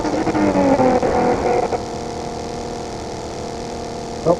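A vehicle in the mobile battle royale game BGMI drives with a loud revving engine that climbs in pitch and then drops to a lower steady drone, with a brief sharp sound at the end.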